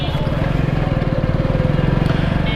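Hero Splendor Plus motorcycle ridden around a neighbourhood, its single-cylinder engine giving a steady, fast pulsing putter close by, even in level from start to end.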